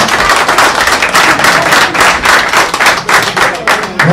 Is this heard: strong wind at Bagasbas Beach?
no